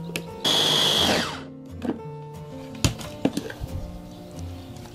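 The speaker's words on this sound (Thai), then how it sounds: "แล้วเราก็ปั่นเลยค่ะ" A blender whirs loudly as it purées shrimp meat mixed with salt water for fried shrimp cakes. The burst runs about a second and then stops, and it is followed by scattered clinks and taps of kitchen handling.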